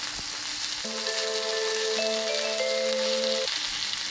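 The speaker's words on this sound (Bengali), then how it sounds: "পেঁয়াজ বাটা নুন আদা রসুন বাটা ধনে আর শুকনো লঙ্কা বাটাটা দিয়ে সামান্য জল দিয়ে হালকা করে কষিয়ে নেব" Vegetables fry with onion paste, ginger-garlic paste, coriander and dried chilli paste loosened with a little water, giving a steady close sizzle with faint tonal whines throughout; no one talks.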